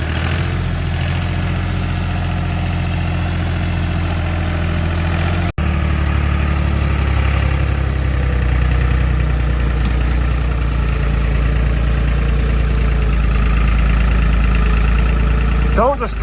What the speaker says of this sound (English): that's a pretty cool old tractor Dave got his hands on.